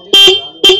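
A repaired horn on a TVS Jupiter scooter honks twice, two loud, close, bright electric beeps with a short gap between them, no talking.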